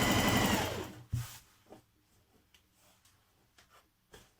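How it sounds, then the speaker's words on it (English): A sewing machine stitches the side seams of a New Look 6889 dress, running loud and steady for about a second, then stopping, followed by a few soft clicks and handling taps. "Now stitch your side seams from the underarm all the way down the side"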